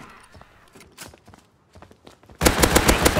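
Gunfire in the survival game Rust, starting with faint scattered shots and footsteps, then a sudden loud burst of rapid automatic fire in the last second.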